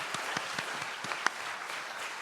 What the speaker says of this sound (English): I want us all to give a round of applause to these people who put themselves up for all of us.